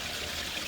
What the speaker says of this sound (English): Once that water stops running, we'll be able to get a little clearer